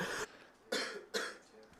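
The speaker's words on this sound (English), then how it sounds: "Muted my mic, then coughed into his." A man at a baseball game broadcast coughs three times close into a microphone, sharp harsh bursts spaced about half a second apart.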